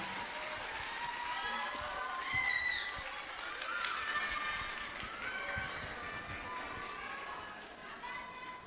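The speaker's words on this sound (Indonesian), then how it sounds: "Mari kita berikan tepuk tangan yang meriah." Audience applause fills a university lecture hall at a national lecture event, a steady broad clapping wash mixed with crowd chatter and some cheering, sustained throughout at moderate loudness.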